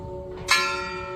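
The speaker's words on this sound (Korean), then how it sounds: "오늘도 송악교회는 종을 칩니다" A single close, loud strike of a church bell at a Korean village church, ringing out with a bright metallic clang and a long sustained hum that lingers.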